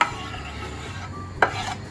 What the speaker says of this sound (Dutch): Perziken roeren we er doorheen.